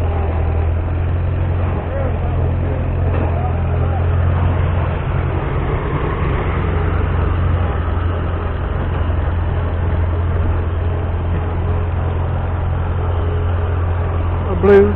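A shuttle bus drives past at the International Harvester homecoming in Fort Wayne, Indiana. Its engine drones low and steady the whole time, with a brief sharper sound at the very end.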